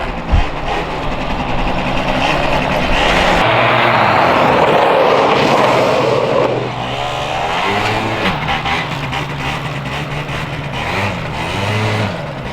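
An Eton 90 quad ATV engine revs hard while drifting, a loud, close, sustained buzzing whine that rises and falls in pitch with throttle changes, easing off briefly before climbing again.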